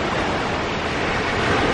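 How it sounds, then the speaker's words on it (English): Waves break along the Kelleys Island shore on Lake Erie in a steady, loud, washing roar that fills the whole stretch without pause and with no voices. "Man, you would love riding these waves,"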